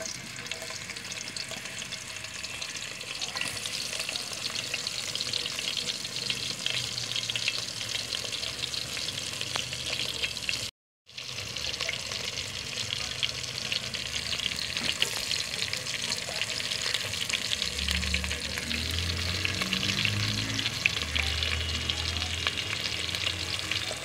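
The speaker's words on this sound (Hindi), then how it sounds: "अब हम इसमें प्याज शामिल करेंगे।" Onions fry in a pan for an aloo methi dish, giving a continuous loud sizzle with rhythmic stirring scrapes throughout, interrupted once by a brief silence.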